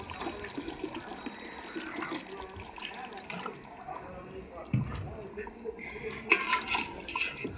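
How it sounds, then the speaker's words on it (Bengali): Water poured into a pot of goat curry cooking over a wood-fired stove, a loose splashing and trickling with a few louder bursts near the end, over a busy background with a murmur of voices. "পরিমাণ মতো জল দিয়ে দেবো"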